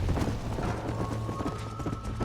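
Hoofbeats of a galloping horse in Red Dead Redemption drum quickly and evenly, close and loud, over a continuous low rumble.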